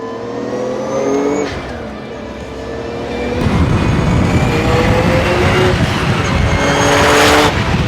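A 1995 Nissan Skyline R33 GT-R V-Spec engine revs loudly up through the gears. The note climbs, breaks at a shift, then pulls hard again, close and steady with no talking over it.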